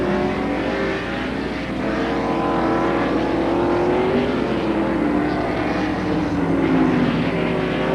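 Rusty Wallace's stock car roars around the track during the 1991 Banquet Frozen Foods 300, a loud sustained engine drone with shifting pitch as it passes, against constant race background noise.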